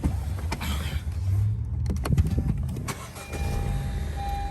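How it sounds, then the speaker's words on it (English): A 2017 Honda Civic VTi-S sedan starting from inside the cabin: a short electric whir and cranking, then the engine settling into a low, steady idle, with faint interior clicks. "So I'm now actually going to get into the vehicle now. I'm just going to start it."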